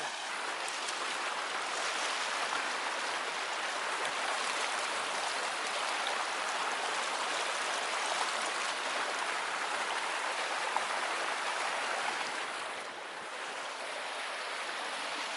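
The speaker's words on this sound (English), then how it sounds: "Looks like we're gonna have to cross the stream." The North Fork Virgin River, a mountain stream in a canyon, rushes steadily and loudly at close range, a dense unbroken wash of water with no voices.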